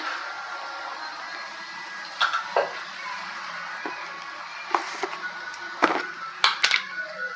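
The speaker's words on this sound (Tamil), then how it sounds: "இப்போது நம்ம வேக வச்சிருக்கிற காலை இதில் சேர்த்துக்கலாம்" A steady sizzle from a hot pan, broken by clinks and scrapes of a utensil stirring and boiled goat trotters being dropped in, close up.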